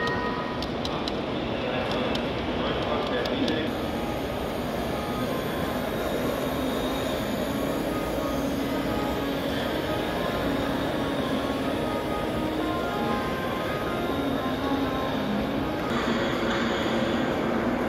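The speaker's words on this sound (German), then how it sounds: "So, eine schöne Bahn hier." An LGB garden-scale model train runs steadily on its track at an outdoor model railway show, a continuous rolling rumble with faint squeals and a brighter ticking noise early on, no one speaking.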